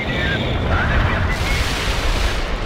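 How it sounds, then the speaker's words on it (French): Artillery barrage explosions in the war strategy game World in Conflict, a dense rumbling roar of overlapping blasts that stays loud and continuous throughout, with low booms rolling under a wash of noise. "Tir d'artillerie parfait"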